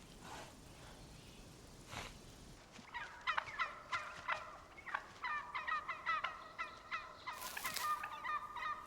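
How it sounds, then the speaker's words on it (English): Wild turkeys gobble repeatedly in the evening before roosting in the tallest trees, a burst of rapid, rattling calls overlapping at moderate distance after a quieter start. "Wild turkeys have finished foraging for the day."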